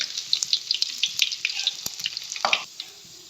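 Garlic and ginger pieces sizzle with cumin seeds in hot oil, a close, steady crackling fry with small pops, fading out near the end.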